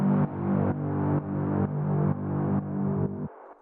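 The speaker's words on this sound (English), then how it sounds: "So this is just one of those nice like atmosphere kind of like brass sounds you hear in a lot of techno tracks now." Atmospheric brass-style synth stab of the kind used in techno, played alone as a repeated chord pulsing about every half second with a slight decay before each retrigger, ending on a thinner tail.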